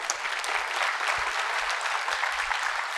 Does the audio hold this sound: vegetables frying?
no